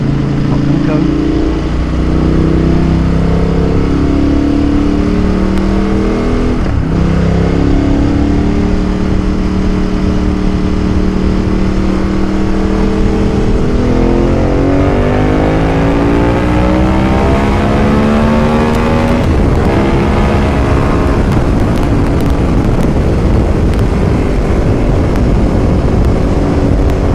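Motorcycle riding at higher speed, its engine droning loud and close with pitch rising and falling through the gears beneath heavy, constant wind rush.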